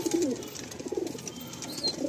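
Pigeons in a loft coo in a soft, steady murmur of throaty calls that overlap continuously, with faint chirps and rustling in the background.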